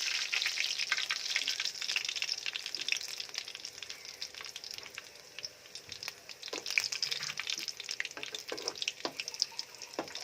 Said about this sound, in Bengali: তেল গরম করার পর রসুন দিলাম